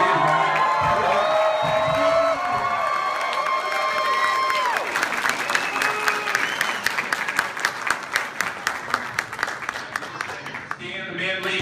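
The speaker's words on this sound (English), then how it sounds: "So give him a big cheer, guys." A crowd at the Hawaii Comic Con 2015 Stan Lee panel breaks into cheering and whoops, then settles into rhythmic, evenly spaced clapping that grows steady and close, with a voice speaking over the noise at first.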